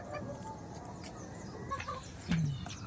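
A rooster and its hens cluck softly around a backyard on a morning, with brief low clucks and a faint call scattered over quiet outdoor background.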